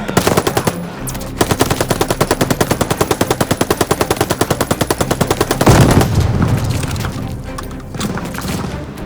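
Sustained automatic machine gun fire in the World War II shooter Call of Duty Vanguard, a rapid, even rhythm of loud close bursts lasting several seconds, then a heavy boom and rumbling battle noise fading out.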